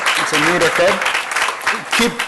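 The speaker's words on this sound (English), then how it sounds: "Let's give a big round of applause." Applause rises from an audience at a college valedictory function, clapping heard in bursts beneath loud voices speaking over it.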